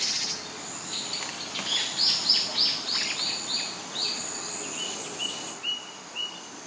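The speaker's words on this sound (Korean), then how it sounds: "들리는 새소리와 함께 푸르른 숲을 보니 마치 숲에 들어와 있는 느낌이 들지 않으십니까?" Birdsong in Dongbaek Dongsan, a gotjawal forest on Jeju Island: a bird repeats a bright chirping phrase in a regular series of short calls over a faint steady insect hum.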